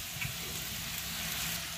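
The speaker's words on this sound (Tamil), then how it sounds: "இப்போ வெங்காயம் நாங்கள் ஏற்கனவே வதங்க விட்டது வதங்கிட்டு இருக்கு" Onions frying in a pan for a Jaffna-style plantain peel sambal, a steady, even sizzle held close and constant with no break.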